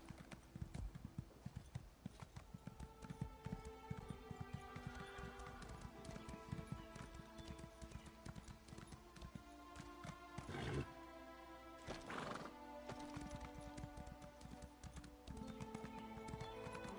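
Horse in the Elder Scrolls Online video game, rapid rhythmic hoofbeats clip-clopping steadily throughout, with a couple of brief bursts of neighing near the middle, alone without talk.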